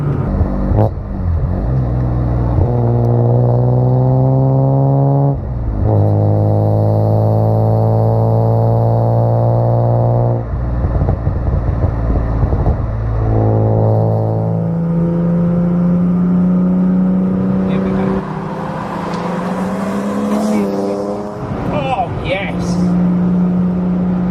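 A BMW M3 Evo E36 engine pulls hard through the gears while driving, its note climbing in pitch then dropping at each shift, loud and close inside the car, with occasional talk over it.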